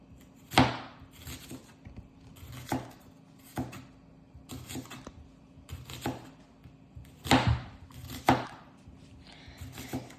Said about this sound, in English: I've got a peeled onion, which I'm going to cut in half. And I'm just going to cut this into slices.